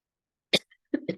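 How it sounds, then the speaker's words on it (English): A single sharp cough up close, followed after a short pause by two rougher coughing bursts in quick succession. "Of course, I start coughing."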